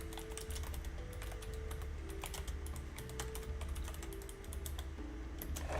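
Rapid, steady typing on a computer keyboard, close clicking keystrokes over a continuous low hum with no talk.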